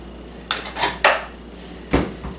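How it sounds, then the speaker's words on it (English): Sugar is scooped into a bowl with a few close clinks and scrapes of a scoop against the dish, spaced irregularly in a quiet kitchen. "No, scoop another one into that bowl."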